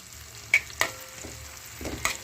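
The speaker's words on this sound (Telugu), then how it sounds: "జీలకర్ర వేసాను, ఇంగు వేసాను, పసుపు వేసాను, టమాటోలు ఇలా మగ్గుతూ ఉండాలి" Tomatoes cook in hot oil with cumin, asafoetida and turmeric for an instant tomato onion chutney, making a soft low sizzle broken by a few sharp clicks and scrapes of a stirring spoon against the pan.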